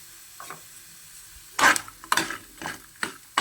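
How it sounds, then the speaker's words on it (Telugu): Paneer cubes frying in a pan with salt, turmeric and chili powder for biryani, heard as a few bursts of sizzling and stirring that start faint and then come loud and close, with no talking. "ఎందుకంటే మనం బిర్యానీలోకి ఇది వేసినప్పుడు పన్నీర్ వేసినప్పుడు చప్పగా లేకుండా ఉండడానికి ఇలా వేయించుకుంటామండి"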